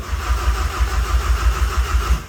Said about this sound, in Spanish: Primera tentativa, el motor tose pero se muere.